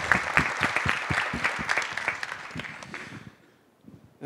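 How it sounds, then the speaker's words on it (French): A live audience applauds performers at a French talk event, a dense burst of many hands clapping that carries on steadily for about three seconds before fading out, with no talk over it. "je pense qu'on peut applaudir les comédiens qui se joignent à nous"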